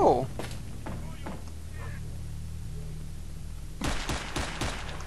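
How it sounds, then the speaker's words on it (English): Gunfire in the video game S.T.A.L.K.E.R. at night: a few sharp shots crack in the first seconds, then a burst of rapid shots near the end, heard among quiet ambience. "Those shots were fired somewhere close."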